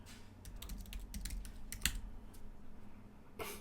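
Quick bursts of clicking on a computer keyboard while coding a React app, close and fairly quiet, with brief pauses between runs of keystrokes.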